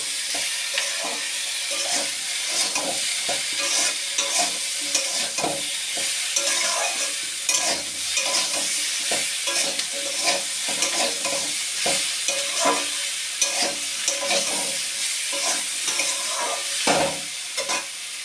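Cauliflower stems are stir-fried in a pan for a Bengali chorchori, with a steady close sizzle and repeated scraping stirs throughout, no voices.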